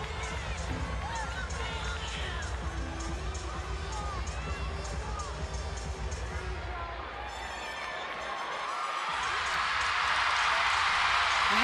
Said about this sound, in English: You hear the cheer in the background as she does her still very much in between in her beam routine